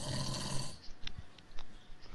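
A person snores faintly over online game voice chat, rough breathy rasps coming in a few uneven pulses under a hissy, compressed mic line.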